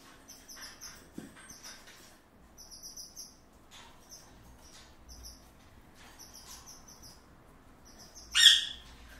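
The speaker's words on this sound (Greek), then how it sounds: "Ένα πανέμορφο πουλάκι" A hungry crag martin chick calls while being hand-fed, giving repeated thin high chirps in short bursts with quiet gaps, then a louder squeal near the end.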